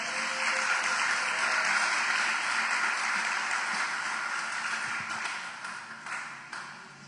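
A church congregation applauds during a sermon, a dense and even wash of clapping that slowly fades over several seconds, with a few sharper individual claps near the end.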